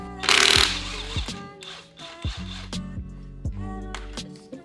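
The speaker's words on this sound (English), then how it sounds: "I'm going to try to bust that off with the impact with a 22mm socket and rip off this crank pulley" An impact wrench with a 22mm socket hammers at a Subaru engine's crank pulley, opening with a loud burst followed by several short rattling bursts separated by tonal whines and pauses.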